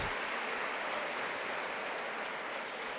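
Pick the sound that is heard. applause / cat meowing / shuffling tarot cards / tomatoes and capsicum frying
applause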